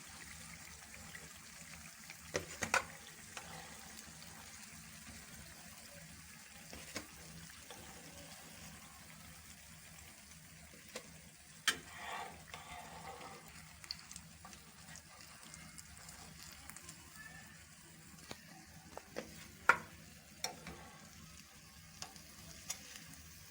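Potato snacks frying in a pan, a low continuous bubbling sizzle with scattered crackles and small pops across a long stretch, fairly faint, no talking.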